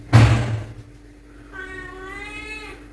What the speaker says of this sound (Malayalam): പൂച്ചക്കുഞ്ഞ് കരയുന്നുണ്ട്.